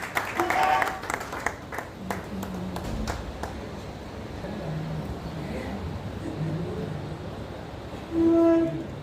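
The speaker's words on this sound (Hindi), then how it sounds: "तालियों से एक बार स्वागत अभिनंदन एलियन साहब का।" Audience applause at a tribute music event hosted by a press club welcomes a singer, heard as broadband clatter rising at the start and continuing under talk, with a loud swell near the end.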